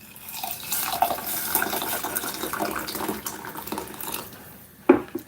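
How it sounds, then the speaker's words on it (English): Rice is washed in a pot under hot running water in a home kitchen, a close, steady splashing and trickling with small clinks, ending in a sharper knock against the pot. "I can just put my rice in there, wash it."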